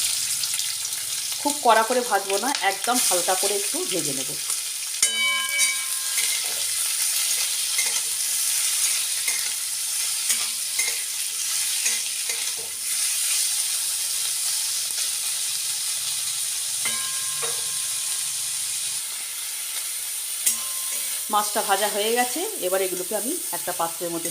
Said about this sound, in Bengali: তেলটা গরম হয়ে গেছে এবার আমি চিংড়ি মাছগুলো একটু ভেজে নেব